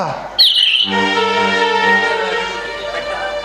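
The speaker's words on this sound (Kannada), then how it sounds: "ಚಿಲಿಪಿಲಿ ಗುಟ್ಟುವ ಹಕ್ಕಿಗಳ ರಾಗ" Birds chirp briefly near the start, followed by a sustained, steady tonal hum that fills the rest of the clip.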